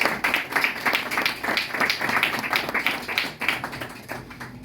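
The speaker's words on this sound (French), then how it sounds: "c'est applaudir, s'il vous plaît" An audience applauds at a Haïti pour l'avenir association gathering, steady dense clapping at moderate distance lasting several seconds without letting up.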